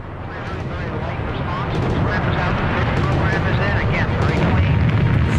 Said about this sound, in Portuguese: E temos a decolagem do Atlas Centauro 77 e do satélite meteorológico GOES-J